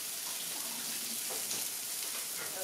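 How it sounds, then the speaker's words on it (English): Water from a kitchen tap runs steadily into a sink during hand washing after handling raw pork, a continuous close splashing hiss without speech. "keep washing my hands because raw meat and the rest of it don't mix"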